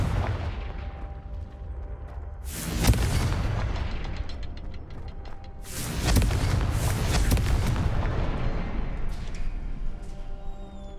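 Two heavy booming blasts of the Confringo explosion spell in Hogwarts Legacy, the first near three seconds and the second near six, each followed by a long rumbling crackle of debris over steady background ambience.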